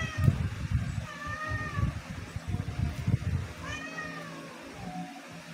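A pushy pet cat meows repeatedly near someone eating pan-grilled tilapia, a pair of clear close meows separated by a short pause, with faint kitchen background noise underneath.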